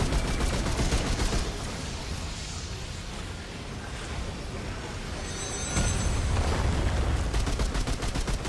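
Engineer turret firing in Remnant 2 as rapid, steady automatic bursts that run the whole time, loud and dense, swelling stronger toward the end with no talk over it.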